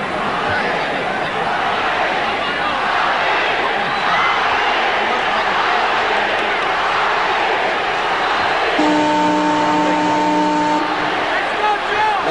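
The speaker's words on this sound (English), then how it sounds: "Crowd is chanting Ali" A large crowd at a 1971 boxing match, Muhammad Ali versus Joe Frazier, roars in a dense, continuous wash of chanting and cheering. It is loud throughout, and a bell-like tone rings near the end.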